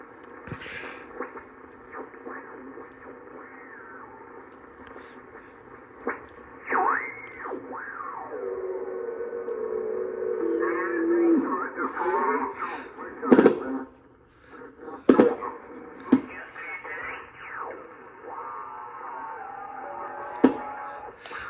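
CB radio transmissions on a Henry Radio Tempo One: receiver hiss with garbled, distorted voices drifting in and out, punctuated by sharp clicks and squelchy tuning sweeps.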